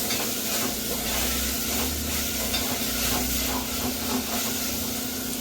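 Ginger, garlic and onion frying in a pan for a bitter gourd pulusu, giving a steady close sizzle with a soft spatula stir running under it throughout, no talking.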